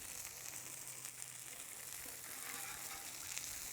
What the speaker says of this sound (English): hear that sizzle from those bacon strips there